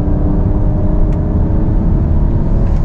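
Kia Carnival 2023 with a V6 engine accelerating, a steady loud low engine drone and road noise from inside the cabin, continuous throughout with no talk.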